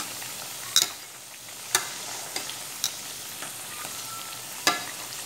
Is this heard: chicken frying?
yes